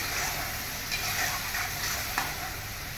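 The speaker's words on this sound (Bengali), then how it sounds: "এবার কিছুক্ষণ আমি নাড়াচাড়া করব" Food sizzles steadily in a hot pan while being stirred, a close, even frying hiss broken by a few soft scraping strokes, with no talk, during the cooking of a banana flower dish.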